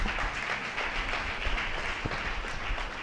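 Church congregation clapping together, a dense steady patter of many hands filling the room, fairly even in loudness, with little talk over it.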